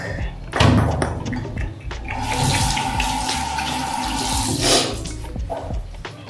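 Cold water runs from a tap into a bathroom sink, a steady splashing hiss that swells in the middle and eases off with a few knocks and handling sounds around it, close by.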